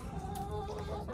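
A hen in a backyard coop clucks softly, a short burst of low throaty notes with some rustling close by, no talking over it.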